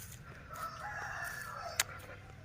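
A rooster crows once near a chicken coop, a drawn-out call of moderate loudness heard from a short distance, with a brief sharp click near the end and a low rumble of background noise underneath.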